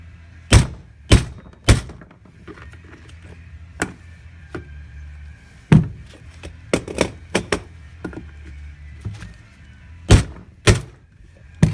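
Hammer blows driving a worn bearing out of the rear suspension of a 2001 Polaris XC800 snowmobile: a dozen or so sharp metallic thuds in uneven bursts, close and loud, with a steady hum underneath.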